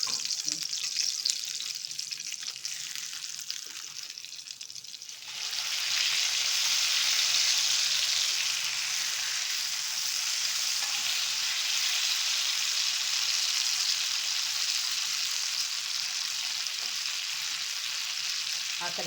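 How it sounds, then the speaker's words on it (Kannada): Fish sizzles steadily in a covered pan, a loud, even frying hiss that swells after a few seconds and continues unbroken, with faint stirring underneath. "ಆ ಕಡೆ ಈ ಕಡೆ ತಿರುಗಿಸಿ ಚೆನ್ನಾಗಿ ನಾವು ಫ್ರೈ ಮಾಡ್ಕೋಬೇಕಾಗುತ್ತೆ"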